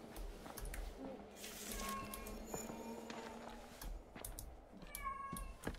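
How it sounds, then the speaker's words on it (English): A cat meows a few times in a horror video game setting, the cries faint and set against a steady background hum. "do you hear the cat?"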